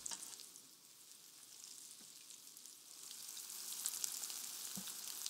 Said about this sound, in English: Add the chicken facing away from you in case it splatters.